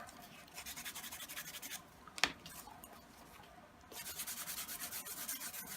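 Wet sanding by hand with a well-worn piece of 1000 grit sandpaper, a steady soft rasping rub in quick strokes that pauses briefly and then resumes, close and quiet.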